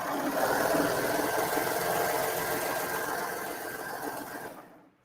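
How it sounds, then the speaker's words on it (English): A four-thread overlock sewing machine stitches a shirt neckband, running at a steady fast hum with a dense mechanical rattle for about four seconds before stopping abruptly. "I'm sewing sideways"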